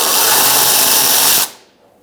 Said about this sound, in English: Using a 12mm socket, we're going to loosen up this bolt.